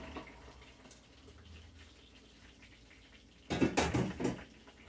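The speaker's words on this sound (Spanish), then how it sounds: "Lo voy a tapar." A lid clatters onto a cooking pot of creamy spaghetti sauce left to come back to a boil, a short burst of clinking metal after several seconds of quiet kitchen hiss.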